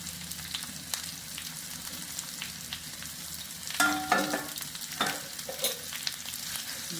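Bitter gourd stir-fry (thoran) being stirred in a pan, with a steady low sizzle and a few louder scraping strokes of the spoon after the midpoint.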